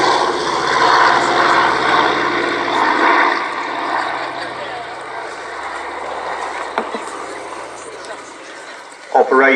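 A propeller aircraft flying at the Shuttleworth Fly Navy airshow, a loud sustained engine drone that swells and then slowly fades, with a voice speaking over it.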